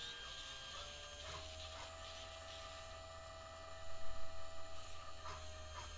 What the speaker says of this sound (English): I want you to be able to hear the motor running in the background and hear the servos moving